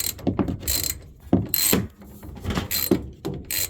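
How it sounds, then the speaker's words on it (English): A part on a washing machine is unscrewed with a ratcheting tool, giving close, repeated clicking strokes in uneven bursts with short gaps and a metallic rasp, and no talk over it. "we're unscrewing it."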